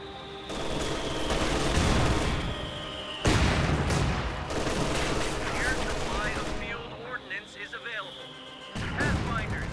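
Machine gun fire rattles in a Company of Heroes 2 battle between US and Wehrmacht forces, with sustained bursts, heavy booms and explosions layered under a commentator's voice.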